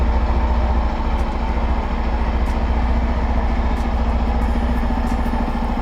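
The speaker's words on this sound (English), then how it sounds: "Always start the bike when it's cold." A second-hand motorcycle engine idles loud and close, with a steady rapid pulsing throb that holds unchanged throughout and no other sounds over it.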